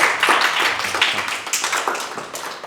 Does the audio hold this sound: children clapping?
yes